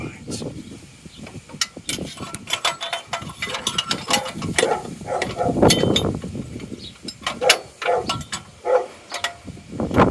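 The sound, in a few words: spanner ratchet reassembling Mazda MX-5 coolant parts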